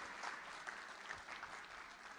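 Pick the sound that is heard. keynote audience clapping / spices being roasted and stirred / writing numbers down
keynote audience clapping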